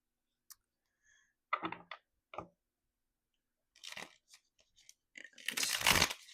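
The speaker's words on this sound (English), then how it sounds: "so let's go ahead and give these a good shuffle" A deck of playing cards being shuffled: scattered riffling and snapping bursts at close range, ending in a dense, loud flurry of card noise, with no talking.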